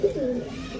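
A domestic pigeon gives a single short, low coo, close and clear, in a loft holding many pigeons.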